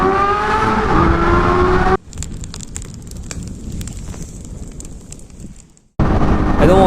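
Honda Hornet 250 motorcycle riding, with a steady engine drone and wind rush filling the middle stretch, framed by louder engine-heavy passages at the start and end.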